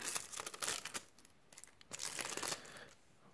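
Crinkly plastic wrapper of a Dragon Ball Super card game booster pack being torn open and crumpled, close and fairly faint, with bursts of rustling around a pause midway and no talking.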